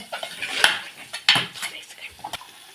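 A metal spoon clatters and scrapes in a pan while masala and red chilli powder are mixed, with several sharp clinks and a low sizzle, close by and without talk.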